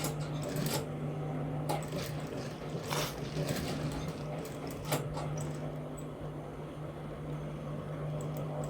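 A sewing machine runs steadily while stitching a tack on a shirt pocket, a continuous close mechanical hum with a few brief clicks and knocks along the way.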